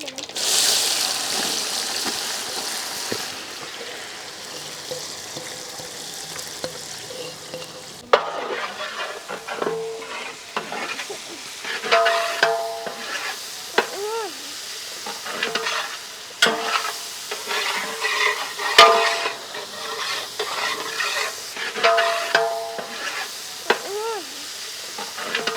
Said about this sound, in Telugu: దీంట్లోనే మనం సన్నగా తరిగిన ఉల్లిపాయ ముక్కలు యాడ్ చేద్దాం